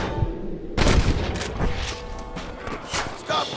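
Gunfire in the Red Dead Redemption shootout in a canyon: a loud burst of shots opens, followed by scattered reports and rumbling booms, with a voice speaking briefly over the fighting.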